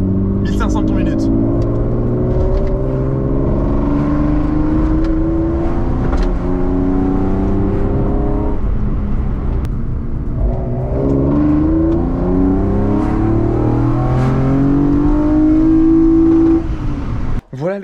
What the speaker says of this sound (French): Dans les tours, franchement, ça fait un bruit de M3.